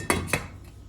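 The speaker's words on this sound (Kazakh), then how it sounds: "Кастрөліміздің бетін жабамыз." A metal lid set onto a saucepan of cold water in a home kitchen: two sharp clinks close together, close and clear, followed by a faint softer tap as it settles.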